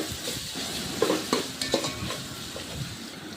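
Ginger garlic paste fries in hot oil with bay leaf while a spoon stirs it around the pan, a steady close sizzle broken by a few sharp scrapes and clinks against the metal.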